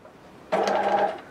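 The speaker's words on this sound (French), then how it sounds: "je commence à coudre donc par le bas, ma couture milieu dos" A sewing machine stitches the centre back seam of a garment with a 2 stitch length, a short steady whirring run that starts abruptly, close and clear, with no talking.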